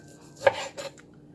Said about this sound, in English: What I do is I cut some slices off the meat like that.